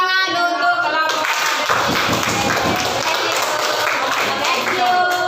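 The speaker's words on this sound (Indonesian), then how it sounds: "beri tepuk tangan untuk kelompok." Classroom applause for a student group after its presentation, a dense wash of hand claps filling the room with voices heard over it near the start and end.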